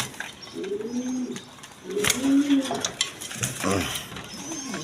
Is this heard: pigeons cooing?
yes